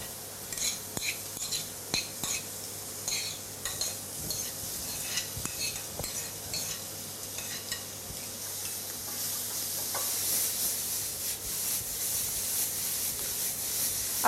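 Cuttlefish and vegetables fry in a pan with a constant sizzle, while a utensil scrapes and taps against the pan at irregular intervals.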